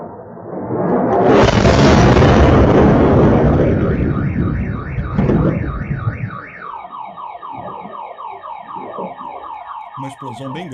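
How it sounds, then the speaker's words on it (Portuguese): A large explosion at an oil refinery in Tuapse, struck in a drone attack, erupts as a loud, sustained broadband roar that slowly fades. Its echoes die away as a car alarm starts wailing in repeating cycles. "Uma explosão bem grande ali, né?"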